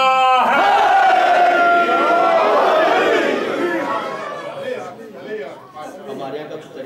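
Loud crowd chanting religious slogans at a Shia majlis, a lead voice calling out and many voices roaring back together, then fading into scattered shouting and murmuring.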